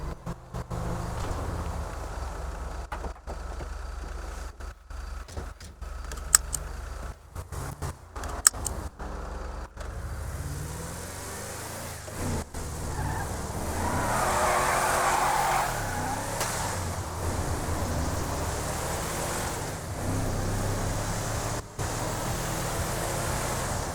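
A car engine in the GTA V video game, a steady loud drone while driving that continues throughout, with a few brief clicks and a rushing swell partway through.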